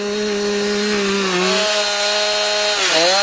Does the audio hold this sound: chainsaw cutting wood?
yes